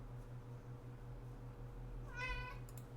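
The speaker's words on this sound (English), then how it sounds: "My cat's bugging me." A pet cat lets out one clear, close meow partway through, over a steady low hum of background music.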